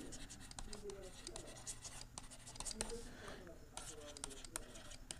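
A trigonometry math problem is written out by hand, pen scratching across paper in quick, close strokes with short pauses, while a voice talks quietly over it.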